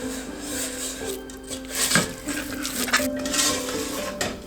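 Brown sugar, white sugar and corn syrup stirred together in a pot for caramel candy, giving short scraping strokes and light knocks of a spoon against the pot, close and fairly loud.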